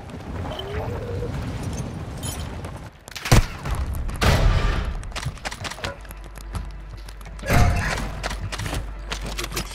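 Gunfire from the Call of Duty Modern Warfare 2 (2022) video game: bursts of rapid shots and heavy booming impacts come in irregular clusters, with loud peaks around the middle and near the end, over a rumbling game background.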